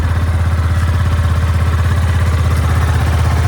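A worn Yamaha 250cc motorcycle engine with a damaged motor runs at a steady idle close by. It makes a loud, rapid, clattering throb with no talk over it.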